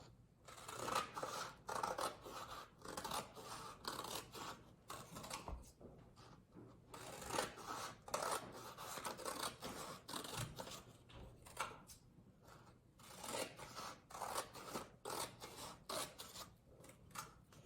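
Scissors snip repeatedly through colored paper strips for a jellyfish craft, a steady run of close, crisp cuts with brief pauses and no talking.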